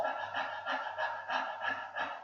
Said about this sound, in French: vous allez inspire, gonfler le ventre, expire, rentrer. Ça donne ceci.